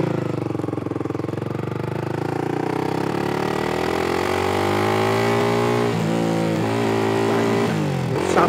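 A Honda CBR250R motorcycle engine on a night ride, with a loud, steady drone that climbs smoothly in pitch, dips briefly near the end and then rises again. No one speaks.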